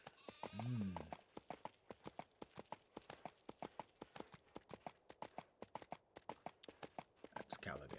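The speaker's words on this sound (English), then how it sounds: "Goats." Goats bleat in the EverQuest 2 game world, one clear bleat early on, then a long run of steady, evenly paced clip-clop footsteps from a travelling mount, with another bleat near the end.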